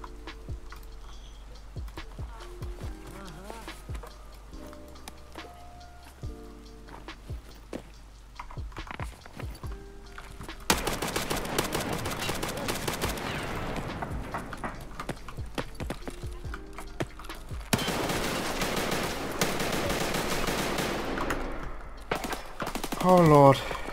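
An AK rifle fires in the game Escape from Tarkov. After a quieter stretch of scattered clicks, long sustained bursts of rapid automatic fire ring out loud and dense, broken by a short pause.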